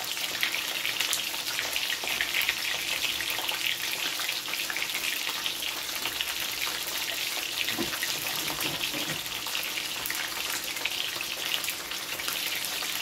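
Snapper fish frying in hot oil in a pot for a Jamaican-style dish gives a steady, dense, loud sizzle and crackle that holds without a break, with no talking.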